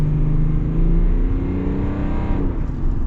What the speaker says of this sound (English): But let's get our full-blown acceleration here.